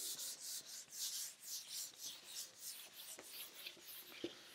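A chalkboard or whiteboard being wiped clean during a lecture on asymptotic analysis of algorithms, heard as rapid, repeated rubbing strokes in a steady scratchy rhythm, close and fairly quiet, with no talking.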